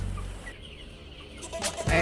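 Chickens cluck softly in short, scattered bursts nearby, with some rustling and a louder flurry near the end.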